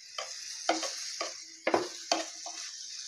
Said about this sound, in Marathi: जास्त बटर लावून भाजायचा मस्त।